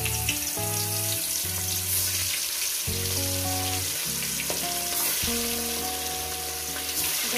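Boga fish pieces frying one by one in hot salted oil give a constant close sizzle and crackle, running steadily under background music with no talking.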